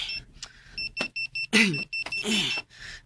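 Repeated electronic beeping in short bursts, a ringing alarm clock pattern, with voices and other sounds around it.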